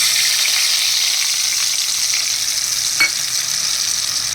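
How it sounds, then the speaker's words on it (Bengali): Spice paste mixed with water hits hot oil in a pan, giving a loud, steady hiss of frying close by, with a brief spatter or clink about two thirds through. "এইটাকে আমি এবার এই তেলের মধ্যে দিয়ে দিচ্ছি।"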